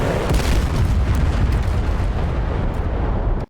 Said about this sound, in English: decoys are going kaboomy